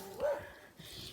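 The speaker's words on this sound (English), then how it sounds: "Oh, that's the dog." A dog gives a single short, high bark or yelp close by outdoors, followed by quieter whimpering sounds.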